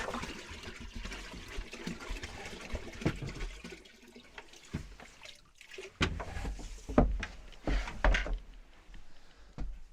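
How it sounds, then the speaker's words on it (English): Spring water runs into a 55-gallon drum being topped off, a steady rushing flow with irregular splashing and gurgling bursts, loud and close, with no talk. "So I'm topping off the 55-gallon drum."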